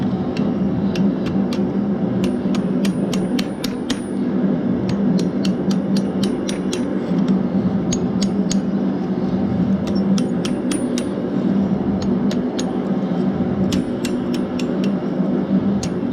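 Sharp metallic hammer strikes ring out as a hot iron bottle opener is bent over an anvil's hardy hole, coming in quick clustered bursts with short pauses over a steady background hum of the forge.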